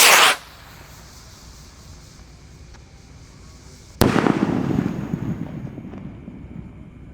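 A Roman candle firework, a 5-shot 0.8-inch tube set off outdoors on the first night of Ramadan, gives a short opening burst. After a quiet pause comes a sharp, loud launch bang, then a hissing, crackling tail that slowly fades.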